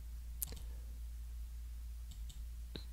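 Mouse clicks while using a Mac Mini M4, a handful of sharp, close clicks scattered across a steady low hum: a double click near the start, another pair a bit later, then one final click.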